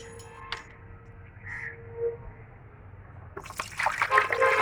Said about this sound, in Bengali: তো একটু জল মেশাবো।